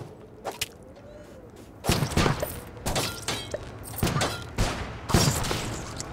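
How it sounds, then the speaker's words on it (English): Homing missiles fire in Starbound, a series of sharp launches and thudding impacts in uneven bursts about every half second to a second, fairly loud over a low background hum. "My little homing missiles."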